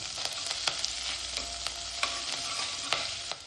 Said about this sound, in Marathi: मग तूप गरम झाल्यानंतर त्यात कढीपत्ता आणि जिरे टाकून घेऊ.